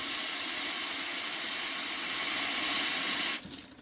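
Steady, loud rush of running water pouring continuously through geo fabric, then tapering off abruptly near the end.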